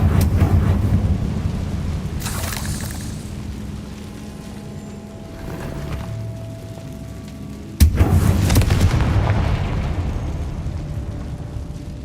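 A Confringo fire-blast spell bursts in the video game Hogwarts Legacy with loud booming explosions, a deep rumbling roar trailing off and a sharp second blast partway through.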